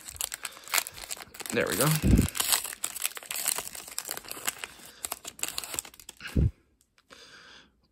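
A 2020 Panini Mosaic football card pack's foil wrapper is worked open up close with crinkling, tearing and crunching over several seconds as someone talks.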